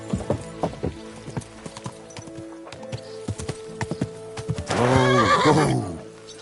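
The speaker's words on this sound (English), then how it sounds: "Easy, good horse." Rhythmic hoof clip-clop on a hard surface in the video game Kingdom Come: Deliverance II, then a loud, close horse whinny rising and falling near the end.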